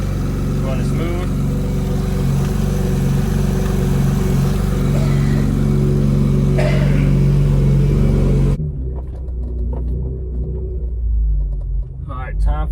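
An Acura TL engine fitted with a lightweight crank pulley idles with a steady, close, low rumble, then the sound shifts to a quieter, more muffled tone; a person talks briefly over the running engine.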